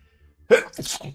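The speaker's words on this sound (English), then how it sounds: "Ugh, big sneeze." A single loud, close sneeze, a sharp burst followed by a brief breathy tail.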